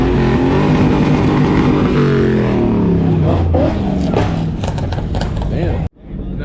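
Honda NSX sports car driving past, a loud, close engine roar that sweeps down in pitch for several seconds before cutting off abruptly.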